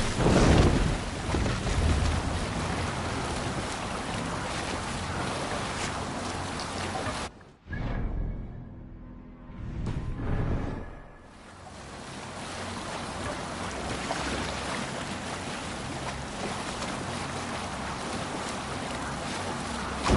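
Viking longship sailing on open sea in Assassin's Creed Valhalla, with steady wind rush and waves washing against the hull throughout, briefly dropping to a quieter lull midway before the surging water and wind return.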